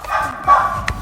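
Dogs in adoption kennels at an animal shelter bark in short bursts, a sharp yip rising near the end over a steady background hum of the kennel room.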